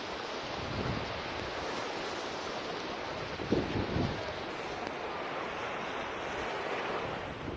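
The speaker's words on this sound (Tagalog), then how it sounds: "Ang dagat to." Sea waves wash steadily against the shore, a continuous broad rushing surf with wind buffeting the microphone and a brief louder surge midway.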